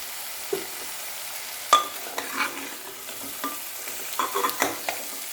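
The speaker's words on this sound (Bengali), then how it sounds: "হলুদ নুনটা দিয়ে একটু ভাজতে হবে।" Spices fry gently with turmeric and salt in a pan: a soft, quiet sizzle broken by scattered scrapes and clinks of stirring, with no one speaking.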